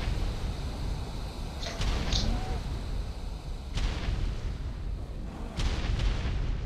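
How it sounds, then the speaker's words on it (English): A rocket launcher fires in a video game, heavy booming blasts recurring a few times over a constant background rumble, with faint voices in the mix. "Trying to get this damn rocket to fire."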